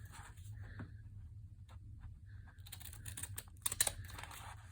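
Scissors snip a thin sliver off the bottom of a paper bag while making a simple travel journal, giving soft, close crisp cuts that cluster and grow louder near the end over a steady low hum.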